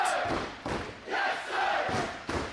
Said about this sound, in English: Listen to this crowd now rallying behind their champion.